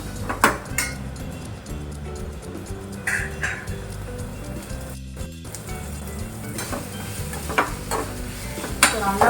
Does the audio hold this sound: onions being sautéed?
yes